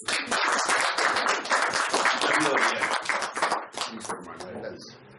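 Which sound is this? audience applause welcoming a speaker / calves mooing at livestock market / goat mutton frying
audience applause welcoming a speaker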